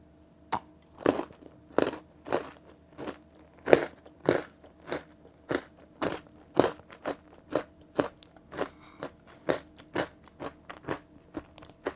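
Close, crisp bites and chewing of a chocolate-dipped strawberry, about twenty regular crunchy chomps in steady rhythm with no talking.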